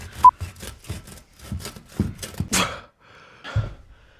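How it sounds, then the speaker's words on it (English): A hand saw rasps back and forth through a shoe in a series of short, uneven strokes, close up, with a few louder scrapes and brief pauses between. "sawing a shoe in half definitely took way more effort than I thought"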